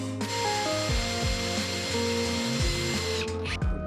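A power drill drives screws to fasten rearview mirror mounts into metal, whirring loudly and steadily up close with repeated pitch drops as each screw bites and the motor strains, then briefly slows.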